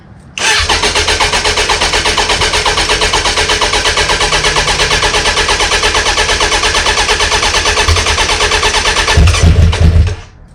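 Air-cooled motorcycle engine cranked with the choke on, catching at once into a loud, steady, rapid idle that holds for about nine seconds before a brief throttle blip and shutoff.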